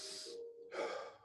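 A slow, deliberate breath drawn in through the nose, followed by a second airy inhale, close and soft with a faint wheezy hiss and no talking.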